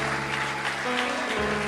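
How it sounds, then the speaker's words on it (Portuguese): A church congregation at a worship service claps together in a dense, sustained wash of applause, loud and continuous, with musical tones sounding underneath. "Você pode aplaudir o nome do Senhor."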